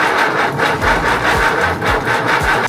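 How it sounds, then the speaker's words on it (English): A 230 HP Mercedes diesel boat engine cranking over in a rhythmic, repeating labored chug, about three cycles a second, loud and close without catching, no voices. "We're making the connections and we're gonna start this engine."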